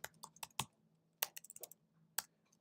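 Keys clack on a computer keyboard in short irregular bursts of a few quick taps, close and quiet with pauses between, no voices.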